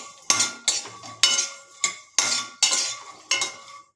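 A metal spoon clinks and scrapes rhythmically in a pan while coriander seeds, dried red chillies, garlic, cinnamon and cardamom are fried for garam masala: about seven sharp, close strokes with short gaps between them and no voices.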